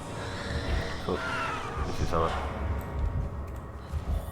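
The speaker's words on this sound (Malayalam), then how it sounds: "അതിലൂടെയാണ് നമ്മൾ കുതിര വരുന്നത്" A horse summoned through a portal in the video game Conan Exiles neighs in a couple of short whinnies over a low rumbling game backdrop, with a voice talking alongside.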